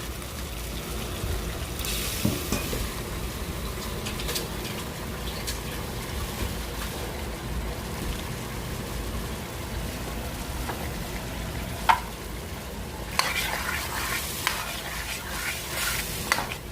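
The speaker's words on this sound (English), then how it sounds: "We'll let this just cook up until it's pink, which should take about 3-4 minutes on both sides" Shrimp, about three pounds in all, frying in a pan over medium heat with a steady, even sizzle that runs throughout, broken by a few louder stirring scrapes and clicks near the end.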